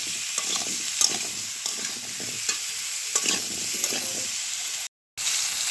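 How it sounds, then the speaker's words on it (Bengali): Potatoes sizzle in a frying pan as a utensil stirs them in frequent scraping strokes, close and moderately loud, with a brief drop to silence near the end. "আলুগুলো আমার এবার ভালো রকম করে ভাজা হয়ে"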